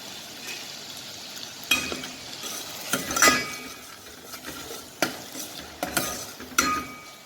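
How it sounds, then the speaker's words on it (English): Garlic and ginger frying in sesame oil in a pot for chicken soup, a steady soft sizzle with repeated sharp clinks and scrapes of a utensil stirring against the pan, close and alone. "While you're frying, you can smell very good smell. The sesame oil smell mixed with garlic and ginger."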